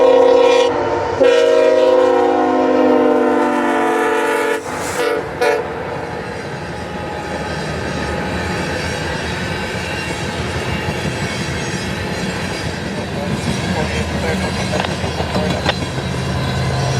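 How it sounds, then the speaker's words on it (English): A westbound freight train, M635, led by ET44AH and ES44AC-H diesel locomotives, blows a loud horn sequence, then rumbles steadily past nearby with rolling wheels and rail noise. "A third train, M635, is lugged west by an ET44AH and an"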